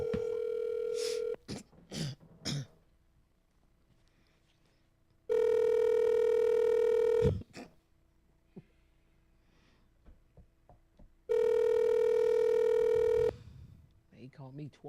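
A telephone dialing for a prank call, with long steady tones sounding three times between stretches of quiet and brief sniffs and breaths close to the mic.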